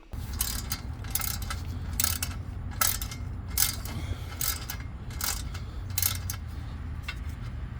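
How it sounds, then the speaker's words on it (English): A ratchet wrench clicks away at the 10mm bolts of a GM 6L80 transmission pan, repeated bursts of metallic ratcheting close up over a steady low hum. "You only have to remove two 10mm bolts and it should come right off."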